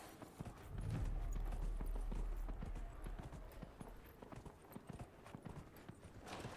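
Horse hooves galloping in Dragon Age: Inquisition, a steady rapid clip-clop rhythm that swells loud for a couple of seconds and then continues at a moderate level throughout, with no talking.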